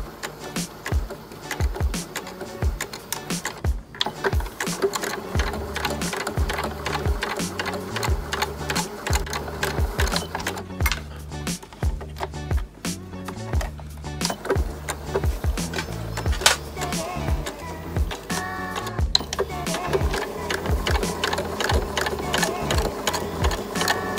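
A sewing machine stitches a cloth face mask made from a tenugui hand towel, running loud and continuously with a fast mechanical rhythm, with occasional brief pauses and some quiet voices in the background.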